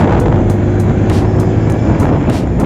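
A Yamaha Mio Sporty fitted with a PE24 carburetor revs hard, its engine roaring loud and close with rapid pulsing bursts across the short stretch, no voices.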